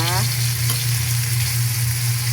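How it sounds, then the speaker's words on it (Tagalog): Garlic, onion and tomato sauté in a hot pan with a loud, steady, close sizzle throughout, while a brief voice at the very start fades under the frying. "Gisa po tayo ng bawang, sibuyas at kamatis."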